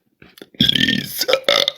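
Someone belches a name aloud, a drawn-out throaty burp with a strained, voiced texture breaking into a few syllables, loud and up close.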